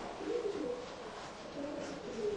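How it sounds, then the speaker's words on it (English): Racing pigeons coo, soft repeated throaty calls close by over a quiet background, the gentle rolling coos rising and falling across the stretch. "Pigeons are flocking birds."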